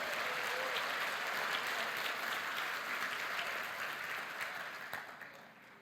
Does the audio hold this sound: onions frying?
no